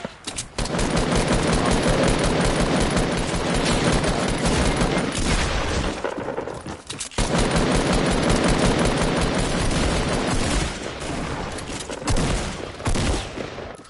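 Dense, continuous automatic gunfire rattles almost nonstop for close to fourteen seconds in Fortnite. There is one brief drop around six to seven seconds before the loud fusillade resumes, and no voices are heard.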